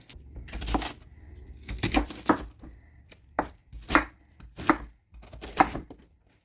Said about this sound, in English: you're going to cut the onion not in a dice, but you're going to cut it in chunks